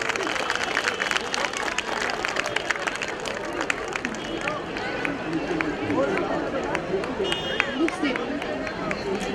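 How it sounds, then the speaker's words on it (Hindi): Crowd noise and applause from a festival audience at the Uttarayani Mahotsav 2020 in Dwarka, a dense continuous clatter of clapping mixed with crowd babble, steady and fairly loud throughout. "तालियां।"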